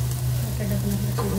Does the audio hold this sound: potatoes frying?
yes